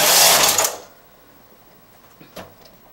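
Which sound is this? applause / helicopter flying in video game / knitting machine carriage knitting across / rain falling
knitting machine carriage knitting across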